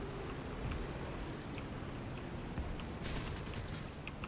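Aircraft guns fire in rapid bursts in War Thunder, an M.B.152C1 fighter chasing a C.202, dense rattling volleys over a steady engine drone, sharpening near the end.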